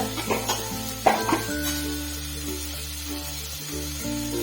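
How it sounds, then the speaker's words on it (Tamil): Salt and spices, sambar powder and turmeric, sizzle in a pan for a bitter gourd curry, with a few stirring clatters at the start and then a steady soft frying hiss under a low hum. "இப்போ அதுக்கு தேவையான அளவு உப்பு இதிலே போட்டு வதக்கிடலாம்."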